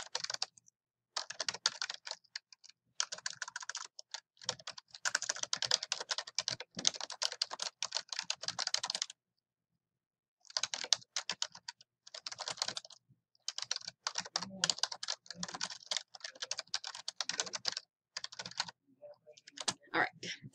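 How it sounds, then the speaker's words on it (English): Typing a sentence on a computer keyboard, with steady bursts of rapid key clicks broken by a couple of short pauses, close and clear, with no talking. "We're going to type another little sentence here."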